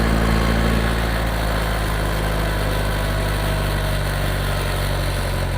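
An IH 504 tractor engine runs steadily at a loud, close idle with a deep continuous rumble and droning hum, its governor pulling toward full throttle, with no voices.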